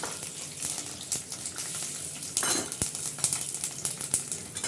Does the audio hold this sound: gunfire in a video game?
no